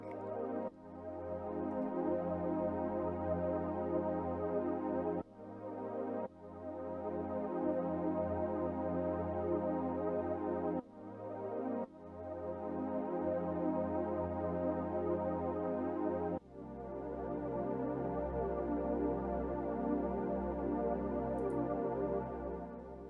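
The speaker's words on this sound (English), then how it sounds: "now you can hear what the pads sound like." Lush sustained synth pad chords swell and hold, changing every few seconds in a slow, continuous wash with no one talking.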